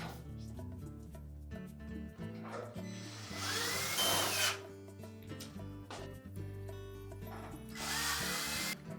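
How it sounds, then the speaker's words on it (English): Power driver sinking screws into the sub panel of a Whirlpool range, with two loud whirring bursts separated by quieter handling noise. "secure it with the 2 screws into the side panels"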